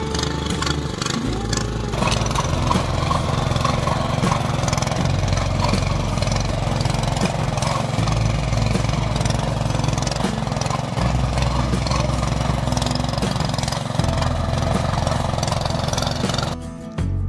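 Tractor engine ploughing a small hillside field, a steady mid-pitched diesel drone running continuously and fairly loud, with slight load changes and no talk, cutting off at the end.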